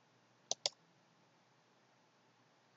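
Two quick mouse clicks close together in a quiet room, then near-silence before a third click at the very end.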